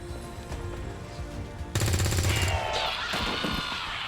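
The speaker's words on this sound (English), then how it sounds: "That's what happens when you shoot at Saint." Gunfire breaks out in the video game XCOM 2, a sudden loud burst of rapid automatic shots after a quieter stretch, followed by further crackling fire and game effects.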